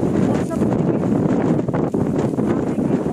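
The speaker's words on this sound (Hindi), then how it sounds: "इतनी तेज़ हवा चल रही है" Strong wind in West Bengal buffets the microphone with loud, continuous roaring gusts that rise and dip, close and unbroken, while a person speaks through it.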